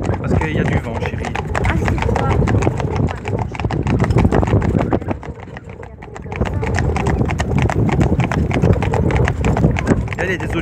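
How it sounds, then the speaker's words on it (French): Horses' hooves clip-clop in a steady, fast rhythm close by, with a short lull midway and people talking over the sound. "Il y a des autres chevaux là-bas."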